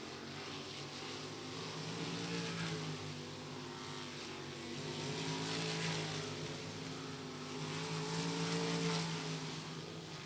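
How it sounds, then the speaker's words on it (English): Local-class race cars on a qualifying run at Atomic Speedway make a continuous engine drone that swells and fades twice as they lap, heard at a distance with no voices. "Jacob Beck's going to come around first lap."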